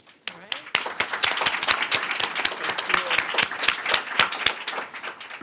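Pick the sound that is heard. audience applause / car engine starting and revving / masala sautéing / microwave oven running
audience applause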